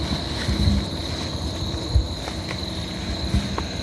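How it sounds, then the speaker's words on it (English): Graceful tree frogs (Litoria gracilenta) call at night in Karawatha bushland, giving short repeated notes over a steady insect drone, with the frogs sounding moderately distant. "Some Latoria gracelenta calls, some gracile tree frog, is that correct?"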